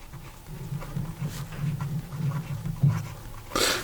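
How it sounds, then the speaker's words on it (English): Nib of a Monteverde Giant Sequoia fountain pen, medium point, scratching across paper in a steady run of soft strokes, close and quiet, with a brief louder rustle near the end. "here we go with the writing sample for the Monteverde"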